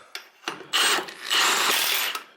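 Milwaukee M18 Fuel 1/2-inch impact wrench with a 21 mm deep socket, breaking a fastener loose: short mechanical bursts, then a sustained loud close-up whirring rattle lasting about a second before stopping.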